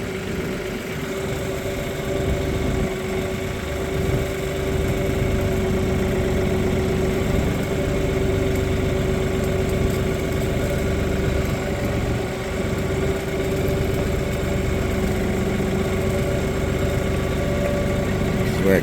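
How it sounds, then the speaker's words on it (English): A heavy Kioti NS4710 tractor diesel engine idles steadily throughout, a constant low rumble with a faint hum and vibration, close by and unchanging. "I like this nice heavy tractor."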